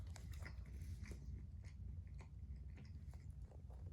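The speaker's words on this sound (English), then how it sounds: "Man, there's a lot of chewing." Close, loud crunching and chewing of a crunchy Nature Valley oats and honey granola bar, a steady run of bites and grinding mastication with no talking.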